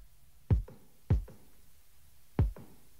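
A kick drum stem isolated by AI from a song: three deep, punchy thumps with short decays, spaced unevenly and heard alone over a faint background.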